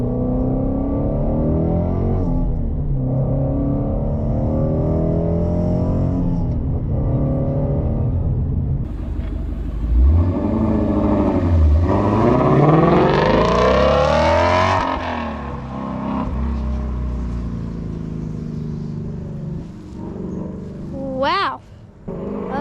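A 2019 Shelby GT350 Mustang engine rumbles up close and is revved in a couple of rising, roaring sweeps before falling back to a deep idle, while people talk excitedly over it.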